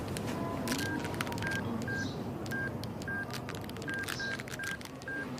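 A mobile phone keypad dialing a number, a steady series of about a dozen short, evenly spaced DTMF tones over a low, constant background hum, with no talking.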